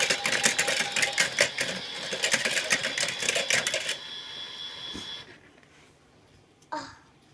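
A toy washing machine's dryer runs with a busy mechanical rattle and clicking for about four seconds, then winds down and stops, followed by a brief knock near the end.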